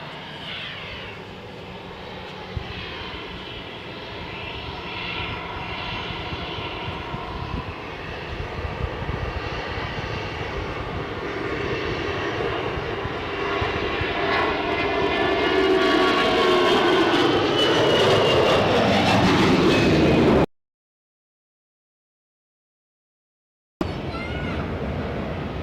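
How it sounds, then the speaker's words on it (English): An Airbus A321 jet bound for Naples roars down the runway on its takeoff roll at Zurich airport, a loud, steady engine rumble building in intensity over about twenty seconds, then cutting to silence before resuming. "we're going to see the Naples bound A321 who's now hurtling down the runway"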